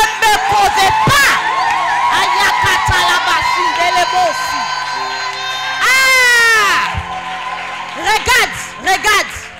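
A church congregation cheers, shouts and whoops loudly in bursts, with rising voiced yells and a long swelling cry near the middle, mixed with crowd noise and some speech.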